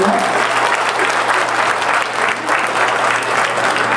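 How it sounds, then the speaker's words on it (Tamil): Steady, loud applause from an audience at a Tamil community Pongal festival celebration, dense clapping sustained without a break throughout. "அவங்களுக்கு ஒரு பெரிய கைத்தட்டல் கொடுக்கலாம்"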